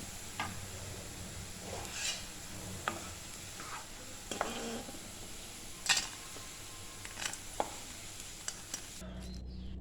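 Okra for a Kerala-style vendakka curry frying in oil in a pan, a soft steady sizzle under scattered clicks and scrapes of stirring, fairly quiet and alone without talk.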